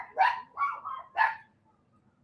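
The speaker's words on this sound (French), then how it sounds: "Une petite grosse garde de chien," A guard dog barks three times in a quick uneven series, sharp and fairly close, then falls silent.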